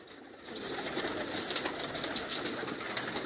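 Pigeons kept by a fancier coo softly and continuously under steady background hiss, with no voices.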